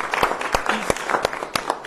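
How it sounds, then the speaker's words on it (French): Scattered hand claps from a small group at a municipal council meeting in Rouyn-Noranda, uneven and somewhat sparse, with a faint voice briefly audible underneath. "Une autre main d'applaudissement encore"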